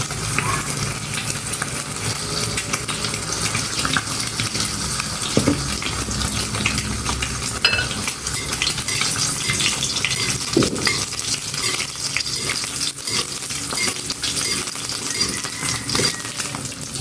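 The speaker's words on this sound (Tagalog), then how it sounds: "Mag-prito na ako ng itlog." Eggs frying in hot oil in a pan give a steady, dense sizzle and crackle at close range that lasts throughout, with occasional scraping and light clinks.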